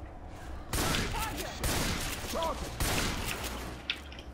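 Rapid bursts of gunfire in Left 4 Dead 2, on a modded Goldeneye caverns map, come in loud, dense volleys separated by brief pauses, with a voice briefly heard among the shots.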